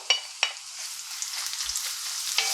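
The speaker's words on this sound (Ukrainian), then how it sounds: "Розігрітий жир, в мене тут смалець, викладаю цибульку." Chopped onion dropped into hot lard, giving a steady close sizzle with a few sharp crackling bursts at the start and near the end.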